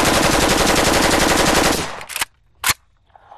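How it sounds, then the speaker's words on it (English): Rapid sustained automatic fire from an AK-47 Kalashnikov rifle, a loud continuous burst lasting nearly two seconds, then a couple of sharp isolated shots with quiet gaps. "Firing 600 rounds per minute and effective to 300 yards, the AK-47 performs"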